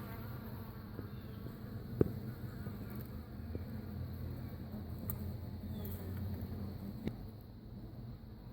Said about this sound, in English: here's a better shot of these bees up here.